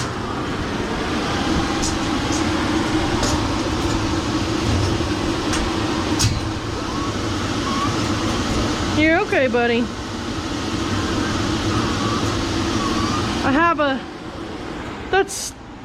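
A pet blow dryer roars steadily throughout while drying a dog, a constant broadband whoosh with a voice speaking briefly over it near the end.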